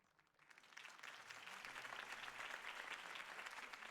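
A crowd breaks into applause in a Batman Telltale video game scene, the clapping rising quickly from quiet and holding as a dense, steady wash of hands.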